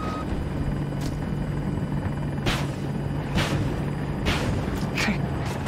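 Steady helicopter rotor drone in Battlefield 2042 fills the whole clip, with a constant low hum and a few sharp higher bursts like weapon fire or impacts.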